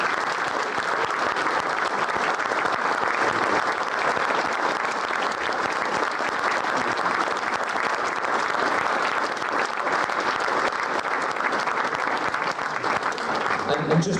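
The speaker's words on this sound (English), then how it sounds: "To both Davids, I think a round of applause and thank you for your time tonight, supporters of Women." An audience at a supporters trust annual general meeting applauds, a dense, steady round of clapping that fills the room and carries on at full strength to the end.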